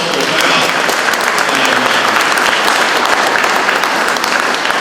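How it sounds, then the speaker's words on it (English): Loud, full applause for new employees during the Lieutenant Governor's speech at PGI, with a crowd clapping steadily and densely throughout. "give them a round of applause"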